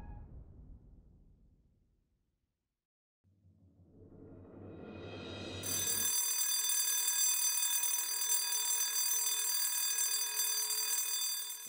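A new home security alarm starts up and rings continuously, a loud, sustained electronic tone that fills the room after a brief quiet lull, with no voices over it.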